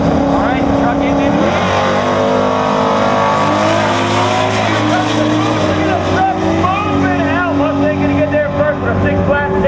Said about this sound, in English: So you got the 351 cubic inch powered Mustang taking on a 261 cubic inch V6 turbo pickup truck